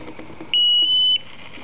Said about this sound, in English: It'll immediately alarm when it first turns on